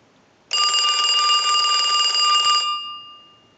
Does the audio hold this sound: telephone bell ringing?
yes